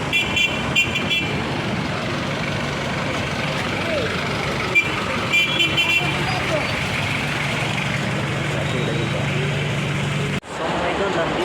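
Jeepneys and dense traffic on EDSA, Manila, rumble in a steady, loud roadway drone, with horn toots breaking through here and there and a brief dropout near the end.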